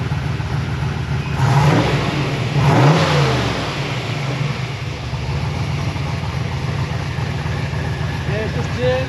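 Turbocharged 363 small-block Ford in a Notchback revving up twice near the start, then holding a rough steady idle, with a faint turbo whine over the engine and voices talking.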